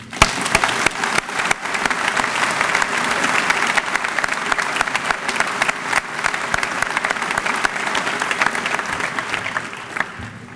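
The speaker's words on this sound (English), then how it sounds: "Thunderous applause, please." Thunderous applause from a commencement crowd of parents and graduates, dense and sustained clapping that stays loud and steady for about ten seconds before easing slightly at the end.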